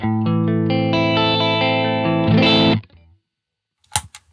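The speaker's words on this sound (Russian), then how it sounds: "Итак, у нас гитара на чистом звуке звучит так." Clean electric guitar with no effects picks out a few sustained notes and chords for under three seconds, ends with a brief strum, then a short scrape and silence.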